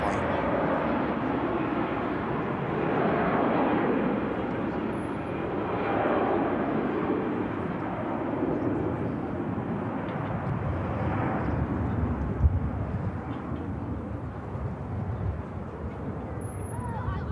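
A Canadian Air Force Hercules arriving at the airport makes a sustained droning engine roar that swells and eases slightly, with voices talking now and then over it.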